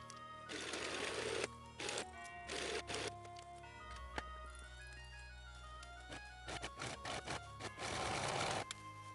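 A sewing machine stitches a quarter-inch seam on a tiered skirt in several close, whirring bursts separated by short pauses and handling sounds.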